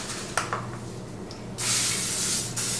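Cooking oil spray hisses onto plastic wrap laid over rising sourdough, first as a few faint clicks and rustles, then as a loud, close, sustained spray burst of about a second.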